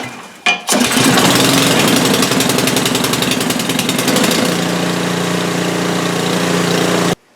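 An Ariens Compact 24 snow blower engine, warmed up for an oil change, starts with a sharp burst and then runs loud and steady nearby, its rapid firing rhythm easing into a smoother idle before cutting off.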